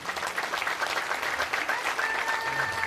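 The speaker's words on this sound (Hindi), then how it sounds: "तालियां धीमी पड़ गई हैं आप।" Steady audience clapping at a devotional gathering with a guru, dense and moderately loud throughout, with faint crowd murmur beneath.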